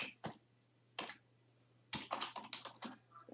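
A few separate clicks on a computer keyboard, then a quick burst of typing, close and crisp against a low background hum.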